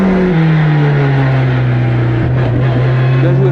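A rally car on a wet road during a rally stage, its engine droning steadily at fairly constant pitch from inside the cabin, with a brief shift in tone partway through, loud and close with no talking.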